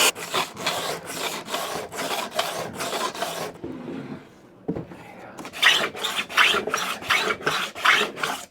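Steady back-and-forth scuffing of a Statue of Liberty pedestal surface, close and loud rhythmic rasping strokes, pausing briefly midway before resuming more vigorously, with no talk.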